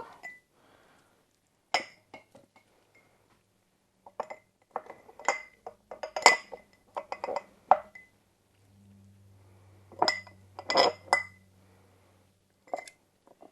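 Small chunks of chicken meat are placed into a glass jar, giving scattered sharp clinks and taps in clusters with quiet pauses between them, close and clear.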